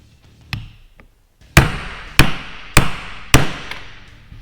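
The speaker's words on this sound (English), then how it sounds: "use the old bearing kind of as a support and then a large socket to tap that the rest of the way down" A large socket taps a new bearing down into a water-methanol injection pump during a rebuild: four sharp, evenly spaced metallic knocks ring out close by, following a couple of lighter, fainter taps.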